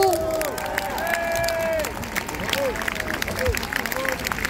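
Large outdoor crowd at a rally over the situation in Israel, clapping and cheering loudly with shouts and whistles, voices mixed into the dense, continuous applause.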